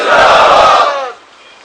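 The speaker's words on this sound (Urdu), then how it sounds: "نعرے تکبیر، نعرے رسالت، وارثین رسول" A large religious gathering in Chakwal shouts a loud slogan response in unison, a single sustained roar of many voices that peaks and then fades within about a second.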